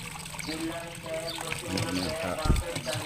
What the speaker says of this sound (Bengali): পানি বেরোতে লেগেছে